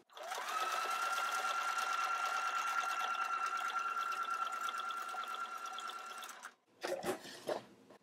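A close sewing machine runs a flat felled seam on denim in one long steady whirring stretch of about six seconds, then stops, followed by a few brief handling knocks.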